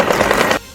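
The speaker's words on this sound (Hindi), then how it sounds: "हेलीकॉप्टर से सैनिक इतनी गोलियां चलाते दिखे कि अंधेरे में सिर्फ फायरिंग की रोशनी" Machine gun fire from a helicopter during a Russian and Syrian night-time military drill crackles in a rapid, dense, loud burst of shots that cuts off sharply, leaving a low rumble behind.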